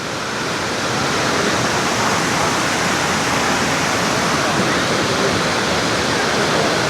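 Kuang Si waterfall roaring as a dense, constant rush of falling water, loud and unbroken from start to finish with no voices.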